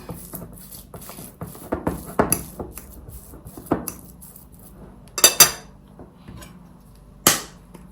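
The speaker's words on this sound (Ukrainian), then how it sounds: "Сир розминаю виделкою." A metal fork mashing cottage cheese in a bowl, with irregular clinks and scrapes against the dish, some sharp taps standing out, close and fairly loud.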